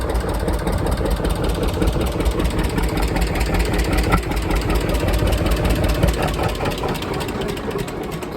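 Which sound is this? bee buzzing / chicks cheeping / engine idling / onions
engine idling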